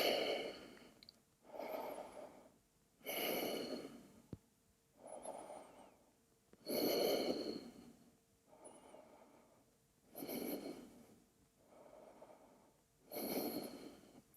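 Slow, deep breathing during a vinyasa power yoga flow, with steady inhales and exhales held through warrior poses. Around eight soft, close breaths follow one another in an even rhythm, with quiet pauses between them and no talking.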